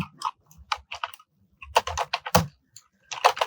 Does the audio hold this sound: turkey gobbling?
no